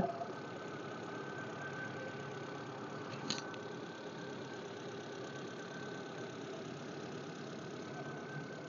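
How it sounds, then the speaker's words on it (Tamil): A Hyundai Santro petrol hatchback engine idles steadily with a continuous low rumble and faint mechanical ticking. It is close, even in level, and has no talking over it. "வண்டியோட இன்ஜின் சவுண்டை லைவாக கேளுங்க."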